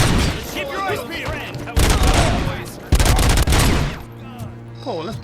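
Heavy bursts of rapid gunfire from a gun in the shooter game Robocop: Rogue City, loud sustained volleys in two or three blasts mixed with game sounds and spoken voices.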